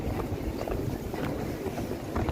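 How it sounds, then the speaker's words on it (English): Strong winter wind outdoors buffets the microphone in a constant low roar with gusty swells, loud and unbroken throughout. "Oh my god, it's fucking windy."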